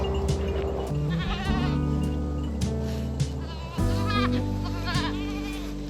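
Several goats bleat repeatedly, some close and loud, others overlapping in wavering calls.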